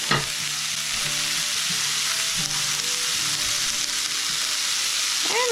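Pastrami sizzles in a frying pan with potatoes for a breakfast scramble, a loud, steady crackling fry broken by a few light scrapes and clinks of stirring, with no talking.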